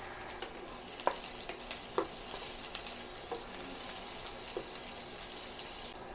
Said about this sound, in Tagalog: Kaya palutungin muna natin yung dilis.